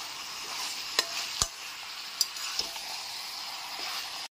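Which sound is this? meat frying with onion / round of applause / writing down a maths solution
meat frying with onion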